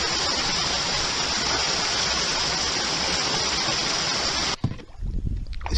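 Water of the Dordogne river rushes loudly and steadily, a dense unbroken roar close by, then cuts off abruptly near the end, leaving quieter rumbling.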